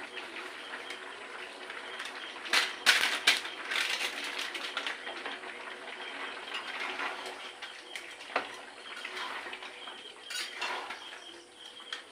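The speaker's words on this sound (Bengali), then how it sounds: "খাসির মাংস রান্না করার, তো সেই মশলাটা আমি এবার কাটছি" Spices for a mutton curry being cut in a home kitchen, quiet irregular chopping and crunching taps with scattered sharper clicks of utensils, close and fairly faint.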